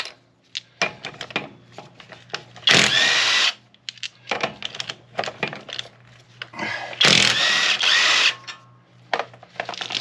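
GATmatic GEW-800 21V brushless impact driver works a fastener, firing two loud hammering bursts of about a second each between scattered clicks and handling knocks.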